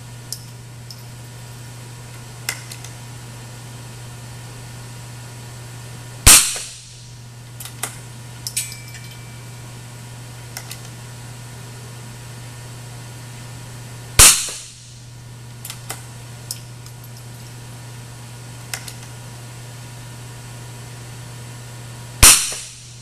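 Rifle fired in a muzzle-tuning test group: three sharp, loud shots about eight seconds apart, each with a short decaying echo, over a steady low hum and faint clicks.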